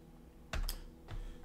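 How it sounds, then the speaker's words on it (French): Keyboard shortcut keys pressed on a computer keyboard during CAD modelling work, two or three quick close clicks followed by a softer keystroke, in a quiet room. "Je fais encore un CTRL-Q sur mon clavier"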